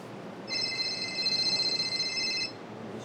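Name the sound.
mobile phone ringing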